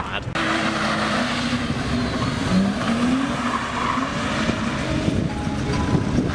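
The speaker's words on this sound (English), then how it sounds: "A burnout. With a little bit of drifting." A car revving hard and doing a burnout with some drifting at a car meet, a loud continuous roar with tire squeal wavering throughout, heard from the crowd amid background chatter.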